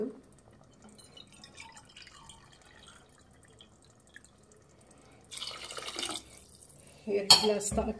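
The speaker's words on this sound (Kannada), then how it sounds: "ಅದೇ ಗ್ಲಾಸಲ್ಲಿ ನೀರು ಹಾಕ್ತೀನಿ" Water is poured from a glass onto rice in a cooking pot for kushka, in two short splashing bursts near the end after a quiet stretch with faint kitchen clinks.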